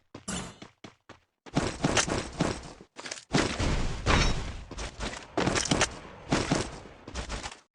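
Gunfire in a shooting video game comes in rapid, loud bursts and single shots separated by brief gaps, filling most of the stretch.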